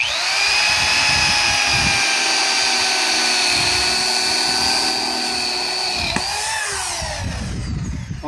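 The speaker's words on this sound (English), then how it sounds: "with your tool at a nice speed, this is actually a hammering drill." A hammer drill drills into concrete with a high, steady whine for several seconds, loud and close, its tone dropping slightly as it winds down near the end.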